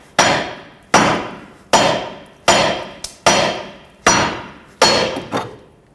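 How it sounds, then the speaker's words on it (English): Hammer striking a steering knuckle on a 2003-2008 Toyota Corolla front suspension, seven sharp metallic blows at a steady rhythm, loud and close, each ringing briefly before the next hit. "what I'm going to do is tap on the knuckle here, pull up at the same time"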